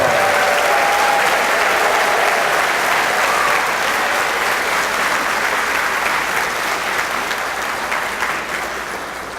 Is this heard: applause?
yes